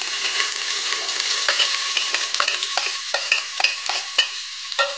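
Finely chopped onion fries in oil in a pressure cooker over a gas flame. A close, steady sizzle runs throughout, broken by sharp scraping and clinking as a spoon stirs. There is no talk.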